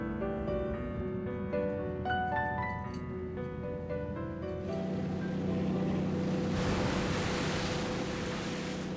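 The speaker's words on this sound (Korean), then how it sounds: "부쩍 험해진 파도" Rough winter sea waves wash around a small 78-ton crab fishing boat, with steady hissing surf over a droning engine hum and tonal machinery whine, growing noisier toward the end.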